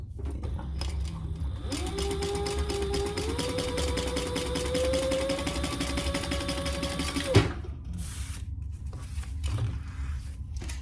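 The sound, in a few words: sewing machine stitching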